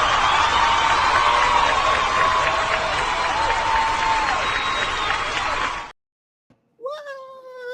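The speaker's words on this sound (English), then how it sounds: "I appreciate the applause." Studio audience applause greets a guest arriving on a talk show, a dense steady wash of clapping that runs loud for about six seconds before cutting off, followed by a short high gliding cry.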